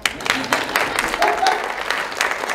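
An audience applauds at a music talk, a brief burst of uneven clapping of moderate loudness that rises and falls over a couple of seconds.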